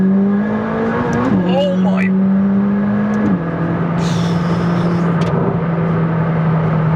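A McLaren 600LT accelerates hard along a dual carriageway. The engine drones loudly and pitch drops at two quick gear shifts. Road and wind roar sit underneath, and a voice exclaims over the din.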